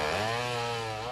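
Chainsaws cut through trees felled by a 1984 tornado, one saw droning continuously with a strong buzzing whine that dips slightly in pitch as it bites into the wood.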